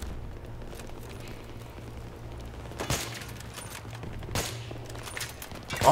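Battlefield 3 campaign gunfire, with several sharp bursts and a couple of louder distant-sounding blasts over a steady rumbling combat background.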